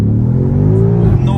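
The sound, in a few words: 2020 BMW M5 Competition accelerating hard from standstill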